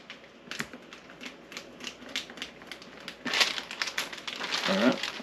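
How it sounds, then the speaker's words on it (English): Crisp tortilla shells crushed inside a Ziploc plastic bag, giving dense irregular crackling and crunching bursts with plastic crinkle, close and fairly loud throughout, with a brief voice near the end. "Put them right in a Ziploc baggie, just like that. Okay. Mash all that out as best we can."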